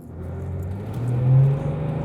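Steady engine hum from the late father's car as it is driven again after years off the road, with a brief swell in revs midway and no talking.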